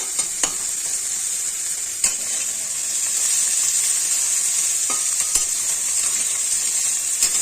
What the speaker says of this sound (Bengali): ঠিক এইভাবে ওলট পালট করে দিলে সুন্দর করে কড়া করে ভাজা হবে।